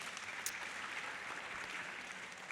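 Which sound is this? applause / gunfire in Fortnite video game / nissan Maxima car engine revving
applause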